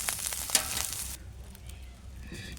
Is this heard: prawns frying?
yes